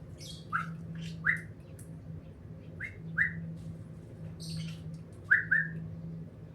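A pet bird gives short, bright whistled notes in small bursts, some paired, over a steady low hum in the room.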